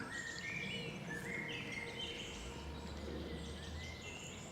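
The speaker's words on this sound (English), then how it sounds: "Fantastic bird song in here now, and it's nicely mixed woodland." Birds sing in mixed woodland along a walking route between Guildford and Horsley, several thin chirps and trills overlapping at moderate distance over a soft, steady outdoor hush, with no talk.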